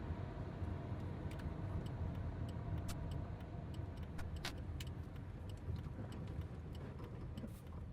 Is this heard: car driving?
yes